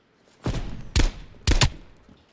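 Three sharp gunshots from Call of Duty Black Ops Cold War, spaced about half a second apart, loud and close with short ringing tails and no talk over them.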